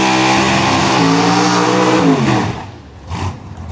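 A pro mod drag race car makes a solo qualifying pass, a loud, high-revving engine roar with rising pitch that fades quickly as the car pulls away into the distance.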